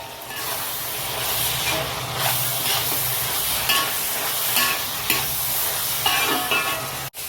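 Onion and green chilies sautéing in a kada pot for biryani, a continuous close sizzle broken by repeated scrapes and stirring strokes, with one sharp knock near the end and no voices.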